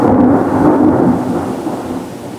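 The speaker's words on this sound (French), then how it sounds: "On a eu pas mal d'orages." A deep, loud rumble of thunder rolls during a thunderstorm, swelling at first and then slowly fading over a couple of seconds with rain noise beneath.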